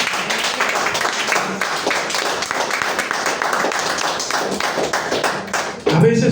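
A church congregation applauding, a full steady round of clapping that carries on for several seconds before a voice cuts in at the end.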